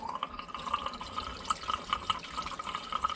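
Coolant draining from a Powerstroke bus into a catch pan, a soft steady trickle and splash with scattered drips, fairly quiet and close, no talk.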